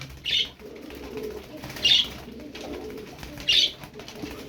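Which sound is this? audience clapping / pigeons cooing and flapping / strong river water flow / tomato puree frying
pigeons cooing and flapping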